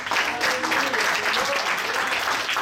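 Church congregation applauding steadily throughout, a dense wash of clapping that fills the room, with faint voices mixed in beneath.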